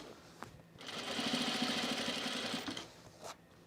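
A sewing machine runs a seam on a Cashmerette Auburn blazer, a close, steady mechanical whir lasting about two seconds, framed by faint clicks and handling noise, with no talking.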